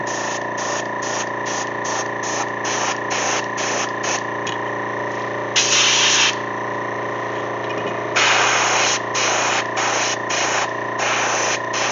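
An airbrush sprays paint on a popper frog fishing lure, hissing in short repeated bursts with a couple of longer blasts over a steady compressor hum.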